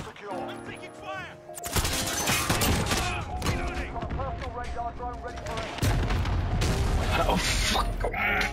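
Gunfire and explosions in Call of Duty Modern Warfare 2019 pound through dense, loud volleys with booming blasts and rapid shots, over game music and a voice.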